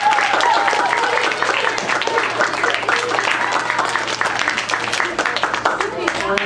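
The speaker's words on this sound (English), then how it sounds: "how about a big round of applause?" A classroom full of children clapping enthusiastically, dense and continuous applause that fills the whole stretch, with some voices mixed in.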